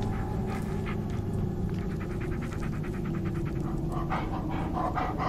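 Rapid, steady panting from a dog companion in the Blair Witch video game, continuous and fairly close throughout with no talk over it.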